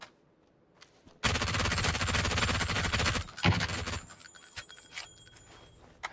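A long, loud burst of rapid automatic gunfire in a video game rattles for about three seconds, followed by scattered shots and clicks as the noise tails off.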